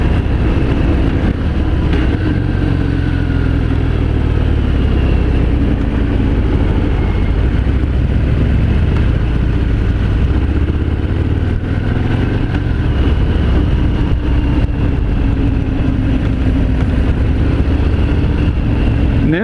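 A 2018 Harley-Davidson Fat Bob with about 3,800 miles on it, ridden on a test ride, its engine rumbling steadily and loud throughout with low throb and wind noise, no talk over it.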